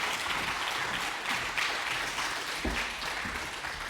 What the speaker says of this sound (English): So please welcome on stage, with an outstanding applause, Anna Urbaniak